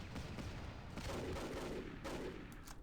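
Dense, continuous gunfire in a Battle for Iwo Jima war video game, several enemy units firing at once in a steady rattling barrage with no voices over it.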